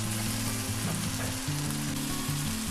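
Pork roast masala with spices frying in a pan for a Kerala-style pork roast, a steady close sizzle with bursts of bubbling and stirring throughout, no voices.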